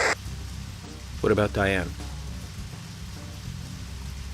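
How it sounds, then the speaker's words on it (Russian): Rain falling in the video game Deadly Premonition, a steady soft patter under the scene as a voice briefly speaks. "Опять дождь пошел."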